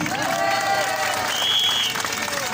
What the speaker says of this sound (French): Un tonnerre d'applaudissements pour M. Lupinski.